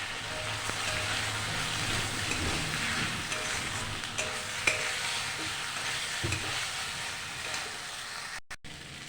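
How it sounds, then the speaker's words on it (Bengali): Amudi fish sautéed with turmeric in a pan gives a soft continuous sizzle with scattered stirring scrapes and clinks, fairly quiet and close, with no talk. "ভালো করে আমি কষিয়ে নেব।"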